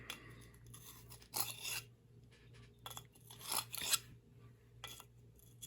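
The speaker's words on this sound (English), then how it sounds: "let's see just how the sharpener feels actually using it" A Lansky D-Sharp sharpener drawn across a carbon steel knife, producing several short, quiet rasping strokes in irregular bursts with pauses between, close up and with no talk.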